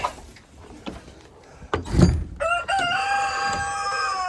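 A rooster crows near a chicken coop, a loud drawn-out call arriving after scattered clucks, rustling and a knock or thump.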